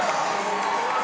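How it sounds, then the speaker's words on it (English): A crowd at a gymnastics meet cheers loudly, a dense, continuous roar of voices and whoops that fills the whole brief moment. "The crowd is getting loud for a 9-9 from Peyton Harris."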